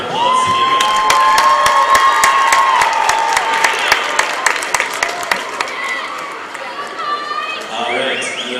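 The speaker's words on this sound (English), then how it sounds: "please, everybody, give her a round of applause to get going" A crowd at a women's college basketball game claps and cheers loudly, with whoops and shouts over sustained applause that gradually thins out toward the end.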